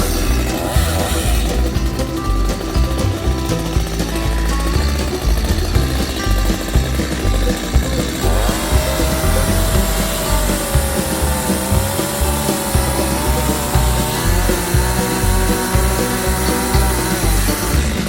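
A chainsaw cuts felled trees into firewood on a New Zealand farm, its loud continuous engine drone and rasping bite running steadily throughout with no talk.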